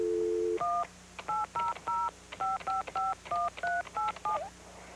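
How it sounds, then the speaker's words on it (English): A telephone keypad dials a toll-free number, a quick run of about a dozen distinct touch-tone beeps in an irregular rhythm, clear and close after a brief steady tone. "You just dial this toll-free number."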